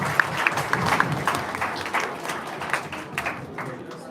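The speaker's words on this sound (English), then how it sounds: "big round of applause for all the ones who got selected" A round of applause during a live-streamed school event: a few seconds of scattered, moderately faint clapping from a small group, mixed with talking.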